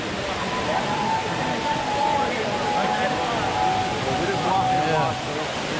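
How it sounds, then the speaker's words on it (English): Small waterfall on the Las Vegas Strip splashing steadily as broadband rushing water, with faint crowd chatter and people talking nearby throughout. "Little waterfall."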